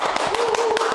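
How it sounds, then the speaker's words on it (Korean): Several people clap in a quick, steady patter to welcome a guest at a Korean book-talk studio session, close and moderately loud, with no voices over it. "박수로 환영하겠습니다"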